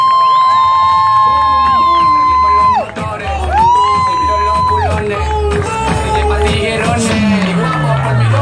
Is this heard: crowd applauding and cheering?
yes